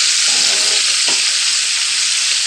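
Ribeye steak sizzling in a hot skillet, a loud, steady frying hiss that holds unbroken throughout.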